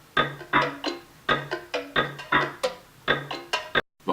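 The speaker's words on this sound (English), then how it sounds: "We got some like percussion loops and stuff like that ended up giving it like kind of like a horse trotting sound" Percussion loops in a trap beat clop in a steady galloping pattern of woody knocks, evoking a horse trotting, loud and dry, ending in a short dropout.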